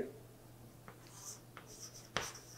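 Chalk or marker strokes on a board during a Java programming lesson: a few short scratchy taps and scrapes spaced irregularly, close by, with one sharper knock near the end and no talk.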